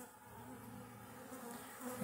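Honey bees drone in a steady, close buzz from an opened hive with a good amount of brood, the hum lasting unbroken throughout.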